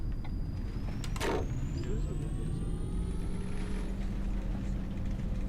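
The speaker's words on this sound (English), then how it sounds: "it's got a nice whoosh to it though. The whooshy bus." A Mercedes eCitaro electric bus in The Bus driving game gives a sharp pneumatic whoosh of air release, then a steady low electric drive hum that runs throughout with a faint rising whine.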